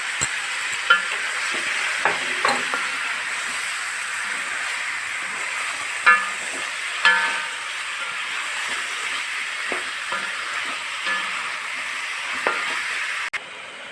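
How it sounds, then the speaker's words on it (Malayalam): Chicken pieces are stirred in a hot pan, a soft continuous sizzle broken by several sharp scraping knocks of the spoon against the pan at irregular intervals. "ഇറച്ചിയൊക്കെ നന്നായിട്ട് ഇളക്കി വെച്ചിട്ടുണ്ട്."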